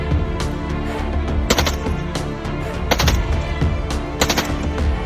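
A toy AK-47 fires three short bursts of rapid shots at about 1.5, 3 and 4.3 seconds, sharp and close, over a steady noisy background hum.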